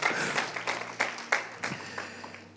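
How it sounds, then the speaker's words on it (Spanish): A church congregation gives a short round of applause: scattered, fairly quiet claps that thin out over a couple of seconds, with a low steady hum beneath. "Dele un aplauso al Señor"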